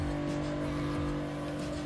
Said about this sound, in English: I'm driving smoothly at 80-some miles an hour,